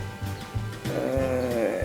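Goats at a goat farm and cheese dairy near Essaouira, a hardy cross with the Moroccan Beldia breed, give a few nearby bleats, the last one long and wavering.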